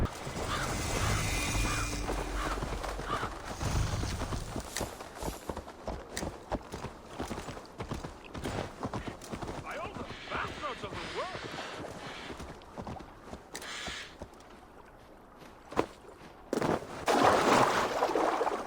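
Horse hooves clip-clop steadily at a walking pace amid wind and outdoor ambience in the video game Assassin's Creed Valhalla, with a few louder thumps near the end.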